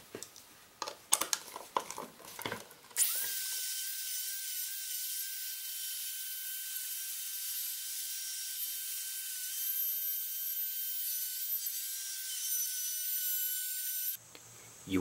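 A router swings on a center screw like a compass, cutting a wooden circle for homemade gymnastic rings. After a few brief knocks, a steady high motor whine and rough cutting noise run for about eleven seconds, then stop abruptly.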